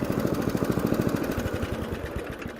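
Old second-hand Swordsman lawn mower with a rear roller, its engine running steadily with a fast, even chugging pulse, close and fairly loud throughout, no voices.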